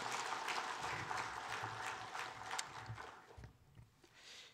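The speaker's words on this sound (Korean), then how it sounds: "격려와 위로의 박수로 한번 하도록 하겠습니다" A church congregation claps in encouragement, a faint, fairly distant patter of applause that thins out and fades toward the end.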